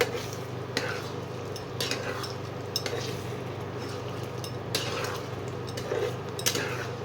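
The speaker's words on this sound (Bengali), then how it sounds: "এইবারে আমি সেদ্ধ করা ওলকপি আর আলুটাকে দিয়ে দেবো। ভালো করে মিশিয়ে নিতে হবে।" Boiled kohlrabi and potato tipped into a pan and stirred, with a metal spoon scraping and clinking against the pan in a few separate knocks over a low, steady sizzle.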